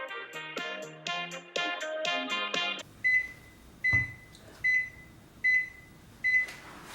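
An Alexa kitchen timer goes off during pasta-dough kneading: a short run of musical chimes gives way to a repeating single electronic beep, sounding roughly every 0.8 seconds, clear and close in a quiet room.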